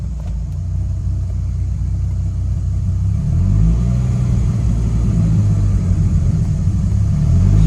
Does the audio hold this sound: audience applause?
no